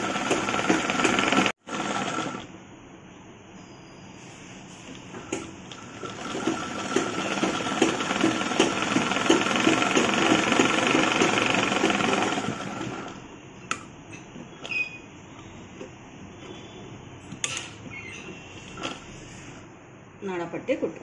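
A sewing machine runs in sustained bursts while stitching around the band of a chudidar pant, a steady close mechanical whir that stops and restarts several times, with a voice talking over it.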